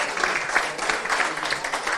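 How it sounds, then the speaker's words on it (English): A pub audience at Crotties claps in a brief, lively burst. The hand claps are close and continuous, with a faint murmur of the crowd beneath. "Give them a round of applause, everybody"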